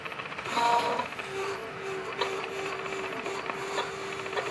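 Compressed air hisses and whistles through emptied RV water lines while the system is winterized, a steady thin tone under intermittent clicks and mechanical rattling nearby.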